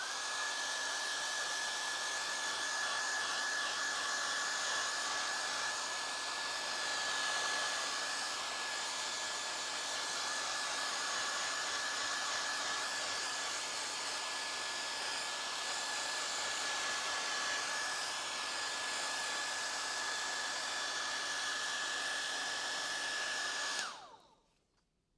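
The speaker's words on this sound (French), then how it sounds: "je vais utiliser un sèche-cheveux pour accélérer le séchage" A hair dryer blows steadily to dry paint on an artwork, a constant close whooshing roar with a high whine that runs unbroken for over twenty seconds before switching off abruptly.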